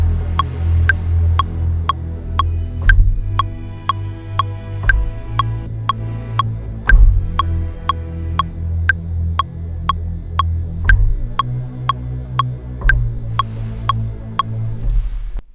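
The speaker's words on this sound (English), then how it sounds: "We've now found a bass, and I'm just going to play something simple here" Simple synth bass line played in Ableton against a steady metronome click, low sustained notes shifting every few beats under regular sharp ticks, loud and alone with no talking.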